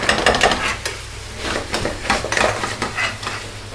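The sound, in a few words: onions frying on medium heat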